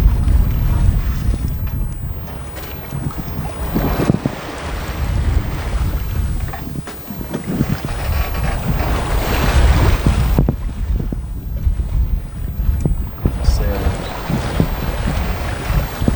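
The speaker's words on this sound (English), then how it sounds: "Since we turned towards St. Augustine many miles ago, we've been sailing." A sailboat under sail on the open sea near St. Augustine, with loud, gusty wind buffeting the microphone over a constant wash of waves and hull noise, no voices.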